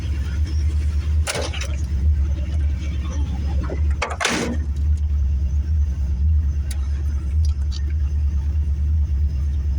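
A 1979 Chevrolet Corvette C3 engine rumbles steadily while driving, a loud continuous low drone with a couple of brief louder bursts near the start.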